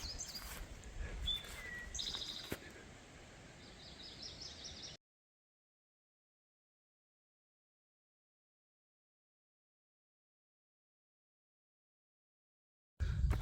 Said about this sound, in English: The birds are going crazy.